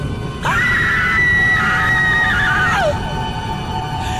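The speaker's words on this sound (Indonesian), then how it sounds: "Aku lantas berteriak histeris berkali-kali." A hysterical scream rings out loud and close, one long sustained high-pitched shriek held for over two seconds before cutting off, followed by quieter background noise.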